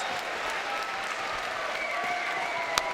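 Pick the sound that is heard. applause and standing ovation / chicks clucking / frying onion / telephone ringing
applause and standing ovation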